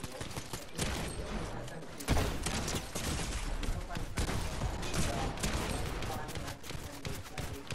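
Dense, rapid gunfire crackles in a video game battle, heavy and continuous throughout with sharp bursts, while players talk over it.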